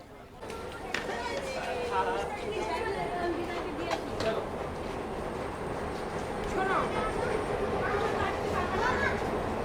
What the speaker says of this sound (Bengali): বন্ধুরা, এই হচ্ছে নিউ জলপাইগুড়ি রেলওয়ে স্টেশন।